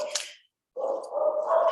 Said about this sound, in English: Sorry about my puppy dog.